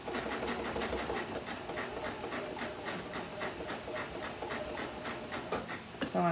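A sewing machine stitches a clothesline coaster in steady rapid bursts with brief pauses, close and fairly loud, with no voices.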